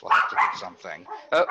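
A dog barks in short bursts in the background while people talk over it during a podcast conversation about NATS and cloud-native software.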